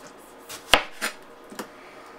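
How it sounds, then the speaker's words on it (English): A knife cuts a tomato on a board, four or five sharp, distinct taps at uneven intervals, close and fairly quiet, with no voices. "And for the tomato, we can cut that first. Let's cut it up."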